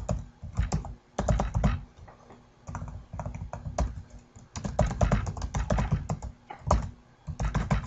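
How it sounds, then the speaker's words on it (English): Someone types on a computer keyboard at close range in steady bursts of rapid key clicks, with short pauses between runs and no voices. "you can then type in your own title"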